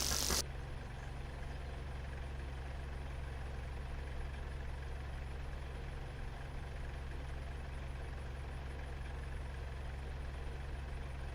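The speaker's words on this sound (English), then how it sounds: "even though you've cut the engine, it carries on turning until you close that button flap" A Spitfire engine in the DCS flight simulator keeps turning after cutoff, heard as a steady, unbroken low mechanical hum that follows a brief loud burst at the start.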